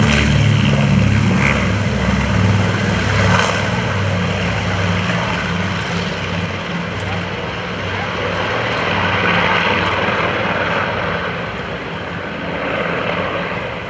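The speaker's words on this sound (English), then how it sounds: "Here's a B-24 on the roll." A B-24 bomber's piston engines and propellers roar steadily on the takeoff roll, a loud, continuous drone rising and falling slightly as it accelerates, with no voices over it.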